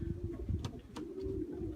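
Young racing pigeons in a loft in the Netherlands give a low, throaty coo that holds through the short moment, close by, over a rumbling indoor background.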